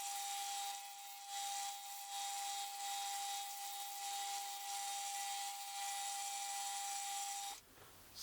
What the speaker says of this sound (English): let's go ahead to the sanding machine and do these corners rounded now